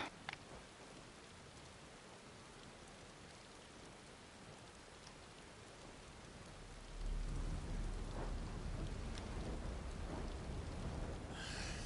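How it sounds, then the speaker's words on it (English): Steady rain hisses throughout a video game scene on PS5, with distant thunder rumbling in and growing heavier and louder over the second half. "Okay, it's raining."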